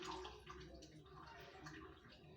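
Water is drained from washed omena fish for a Kenyan recipe, giving a soft, steady trickle and gurgle that is faint and close.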